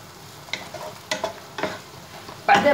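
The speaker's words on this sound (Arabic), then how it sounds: "بحط هلا الفليفله الخضراء والحمراء" Green and red peppers added to softened onions frying in a pan for chicken kabsa: a soft sizzle broken by several sharp stirring scrapes, the loudest near the end.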